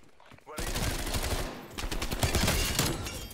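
Unsilenced Bullfrog submachine gun fire in Call of Duty Cold War breaks out suddenly after a quiet moment. Rapid automatic bursts follow, loud and close, with a short lull and then more sustained fire.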